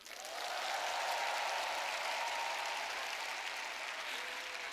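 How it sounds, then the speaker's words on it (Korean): Sustained applause from a large convention audience of about thirteen thousand people in an arena, a dense, steady wash of clapping that swells quickly and holds loud for several seconds with no talk over it. "여러분 박수 좀 보내주세요"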